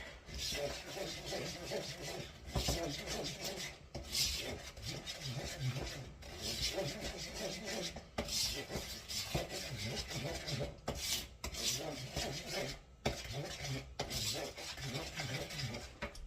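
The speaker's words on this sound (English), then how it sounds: "I'm just going to stir that and beat it" A spoon stirs and beats a thick coffee toffee cookie mixture in a bowl, making repeated rhythmic scraping and rubbing strokes with brief pauses between bursts, close and moderately loud.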